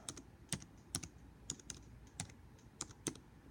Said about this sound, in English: I'm going to go to my search bar and I'm going to type in